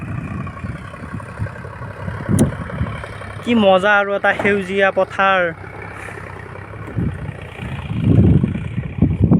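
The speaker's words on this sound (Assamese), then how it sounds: "এতিয়া খেতিৰ সময় আৰু এই ট্ৰেক্টৰেৰে হাল বাই আছে।" A tractor ploughs a field in farming season, its low engine rumble running steadily underneath while a person talks over it in the middle of the stretch.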